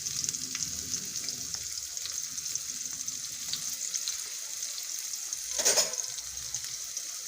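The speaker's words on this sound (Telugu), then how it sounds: "ఉల్లిపాయలు సన్నగా తరిగిన ఉల్లిపాయలు వేసి" Finely chopped onions frying in a pan with a bay leaf for a chicken curry, making a steady bright hiss with a brief louder burst of crackling partway through, close and even.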